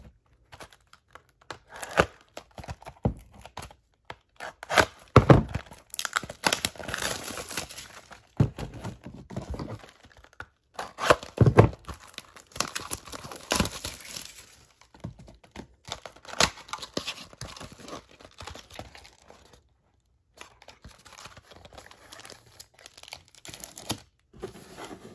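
Packaging on a 2020 Bowman Chrome baseball card box is torn and crinkled open close up in irregular bursts of rustling, ripping and crackling, with quiet gaps between and no voices.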